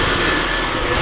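A Cummins turbo diesel engine roars close and loud in a brief, steady, dense drone with no pauses, while a voice may be faintly audible under it.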